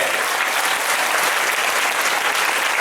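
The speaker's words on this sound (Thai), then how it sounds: "เราปรบมือให้บ้านราชาวดีด้วย" Loud, sustained applause from the audience at a charity concert, a dense wash of many hands clapping continuously with no break.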